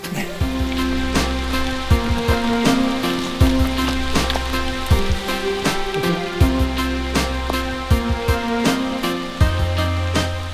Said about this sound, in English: You're complaining about the heat, and then it starts raining.